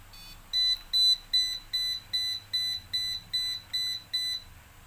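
A microcontroller buzzer wired with push buttons, LEDs and a servo motor gives a string of about ten sharp electronic beeps, loud and close, repeating in an even rhythm after a short opening chirp.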